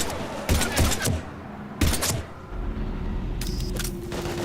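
Gunfire in the video game Mass Effect 3 Legendary Edition: a burst of loud, close shots in quick clusters, then another volley, followed by a lower rumbling of combat.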